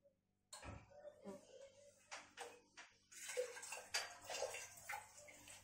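Warm water pours and splashes onto yeast in a bowl in uneven bursts, with light clinks of a container, close and quiet.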